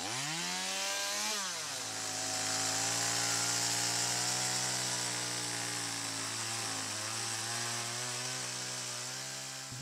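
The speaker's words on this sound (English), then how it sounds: "If it's a very large piece, I carve it with a chainsaw," Chainsaw carving a large piece of wood, running loud and close for the whole stretch, its engine pitch rising sharply at the start and then holding a steady roar with slight dips as it cuts.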